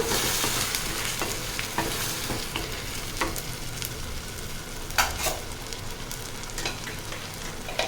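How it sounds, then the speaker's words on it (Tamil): Tomatoes sauté in a pan for channa masala gravy, with a steady close sizzle under repeated scraping and clicking strokes of a spatula stirring throughout, no voices. "ஆட் பண்ணிவிட்டு நல்லா இதையும் பச்சை வாடை போகிற அளவுக்கு வதக்கி விட்டுறலாம்"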